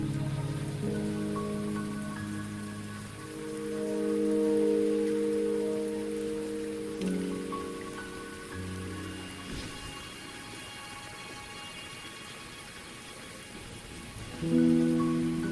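Steady rain patters down in the Wuthering Waves video game world, a constant wash of falling drops mixed with a sustained musical score of layered tones throughout, with no talking.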